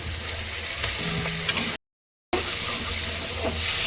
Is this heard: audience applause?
no